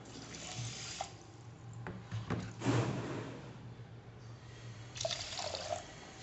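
One and a half cups of water pour and splash into a metal pan for ash gourd halwa in a quiet kitchen, with a couple of brief bursts of louder pouring and faint clinks.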